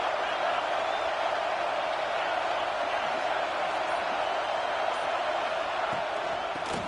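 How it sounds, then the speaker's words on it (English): Stadium crowd at a football game, a loud, continuous roar of cheering voices that holds steady throughout with no breaks. "It's early, but this crowd is fired up. Listen to this noise here."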